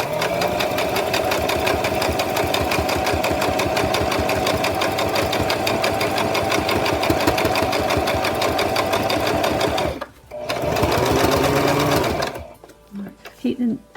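A sewing machine stitches a doll in a steady, close, fast run of needle strokes that stops briefly near ten seconds, restarts, then tapers into short bursts.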